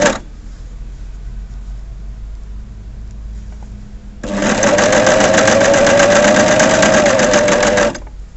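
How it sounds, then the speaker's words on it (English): An overlocker sewing machine stitching fabric, with a steady hum at first, then a loud, even high-speed whirring run lasting several seconds before it stops, close up and with no talk. "Try not to stitch too fast, and that way you can be accurate with placement of fabric as you go through"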